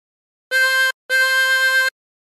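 Two sustained blown notes on hole four of a chromatic harmonica, the second longer, played close and clear with a short pause between them.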